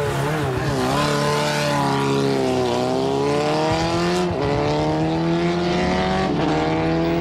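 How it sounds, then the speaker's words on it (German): A Suzuki Hayabusa motorcycle pulls away in second gear while towing a person, its engine roaring loud and close and climbing steadily in pitch through repeated gear changes, with no talking. "gezogen von einem Motorrad"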